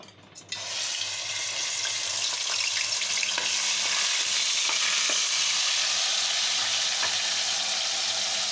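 A ground paste of onion, cinnamon, clove and cumin fries in a pan, a strong, steady hiss that starts suddenly and runs on without letup, with occasional light clicks of stirring.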